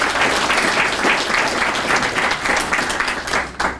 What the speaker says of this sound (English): a round of applause for all our volunteers